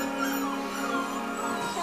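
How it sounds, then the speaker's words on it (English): A small Whoodle puppy gives thin, steady whimpering, high and close, drawn out without pause over a constant background hum. "It's a little puppy."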